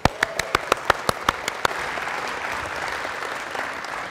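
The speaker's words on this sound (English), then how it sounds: "Let's give them a round of applause really quick." A conference audience bursts into applause, opening with a run of sharp, distinct claps that quickly merge into a steady crowd wash before fading.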